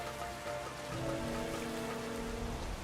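Rain falls in a video game, a steady, close hiss of drops with a low hum underneath and no talking.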